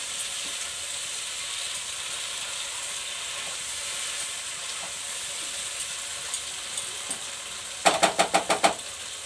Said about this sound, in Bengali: মাংস কষাতে কষাতে আমার তেল ছেড়ে গেছে।